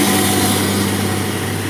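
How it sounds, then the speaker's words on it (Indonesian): A loaded tanker truck's engine roars steadily as it climbs the Sungai Karas uphill road, a loud continuous drone with strong low rumble and broadband noise, no talk over it. "Terdengar jelas auman mesin truk tangki"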